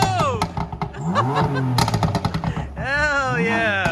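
Sharp crackles and pops from the exhaust of a BootMod3 Stage 1 tuned car, mixed with excited whooping voices shouting over the engine.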